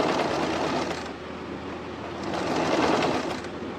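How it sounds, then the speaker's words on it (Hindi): A sewing machine runs steadily, stitching the frills of a long skirt, a continuous close mechanical whir with slight swells in speed. "तो देखिए इस तरह से हमने एक यहाँ पर स्टिच डाल दी।"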